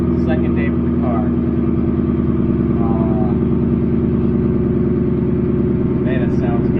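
A car with a new Ford Coyote V8 idles steadily and loudly close by, a continuous low rumble throughout, with faint voices in the background.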